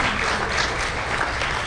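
Audience applause fills a conference hall at a DEF CON 17 hardware panel on FPGAs, a dense, steady clapping that holds at full strength for the whole moment without letting up.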